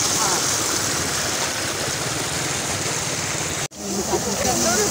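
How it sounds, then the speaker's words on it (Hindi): Tubewell in a village farm setting pumps water into the fields, a steady loud rushing gush of water running throughout, close by, with a brief cut near the end before the flow resumes. "ये ट्यूबवेल चल रहा है।"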